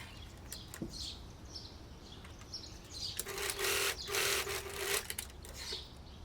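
A sewing machine runs a short burst stitching the side seams of balloon barrel pants, a close whirring hum for about two seconds after quieter handling and rustling, with no talking.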